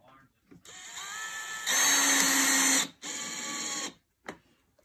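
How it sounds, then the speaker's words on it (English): Cordless power screwdriver set to low torque driving screws into a plastic speaker enclosure: close, loud whirring bursts rising in pitch under load, a short pause, a second whirr, then a brief click. "Setting it down to three. Three. Torque on the screwdriver."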